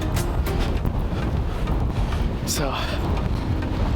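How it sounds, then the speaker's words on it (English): Strong wind in a snowstorm buffets the microphone with heavy, constant low rumbling roar, while someone speaks over it close by. "The snow, this wind is killer."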